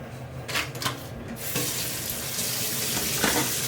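Hot water gushes from a tap, quieter splashes at first and then a steady loud rush filling a container close by.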